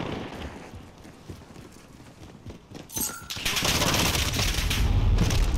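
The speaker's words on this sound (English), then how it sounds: "Stop shooting at me!" Gunfire in Call of Duty: Modern Warfare from 2019, starting sparse and then building into a dense, sustained burst of rapid shots that grows louder toward the end, with no talking over it.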